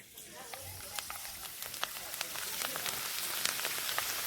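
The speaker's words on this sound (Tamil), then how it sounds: "எண்ணெயில் இப்போ பாருங்கள் தோலை சேர்த்துக்கிறேன்" Potato peels frying in hot oil, a busy crackling sizzle with sharp pops scattered over a steady hiss that grows slightly louder.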